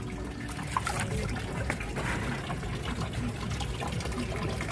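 Oil cake fertilizer water poured from a container onto the soil of potted rose plants, a steady close splashing and trickling stream that runs without a break, with no voices over it.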